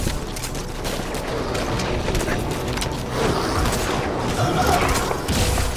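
Gunfire in a shooting video game, with headshot and no-scope attempts, comes as dense, loud, continuous crackling shots and mechanical clatter, with faint talking mixed underneath.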